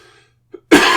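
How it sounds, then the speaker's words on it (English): One sharp, loud cough close to the microphone bursts out after a brief quiet with a faint murmur, from a person with a lingering cough. "Yeah, there's coughing as well."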